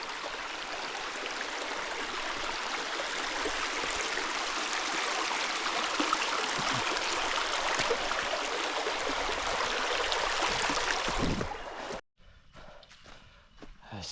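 A river flows at a walking-track river crossing on a long-distance bush walk, a loud, continuous close rush of water that cuts off abruptly near the end, leaving quieter ambience.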